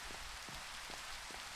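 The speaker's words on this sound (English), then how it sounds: "Hopefully the rain will stop." Rain falls steadily in the Minecraft video game, a soft, continuous hiss of drops pattering on surfaces, quiet and unbroken with no voices.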